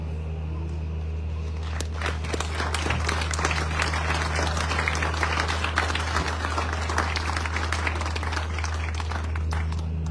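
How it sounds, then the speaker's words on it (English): Audience applause for a Marine's retirement speech, as people stand and clap in a sustained, dense round that swells slightly and holds steady over a low hum of the room. "in a round of applause"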